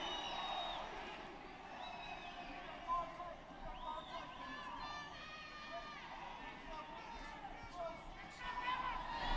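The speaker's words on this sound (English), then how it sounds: "the fans still cheering on Victor Ortiz here in El Paso" Boxing crowd in an El Paso arena cheering on Victor Ortiz during his fight with Devon Alexander, a steady, distant roar and babble of fans running under a commentator's continuous talk.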